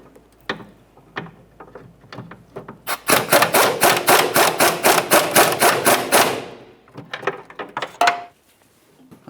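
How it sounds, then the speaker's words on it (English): A ratchet wrench tightens the mounting nuts on a rear upper control arm of a 2012-2018 Nissan Altima, giving a rapid, even burst of loud clicking for about three seconds, with scattered taps and clanks before and after. "we'll continue on with tightening up each of these two mounting nuts."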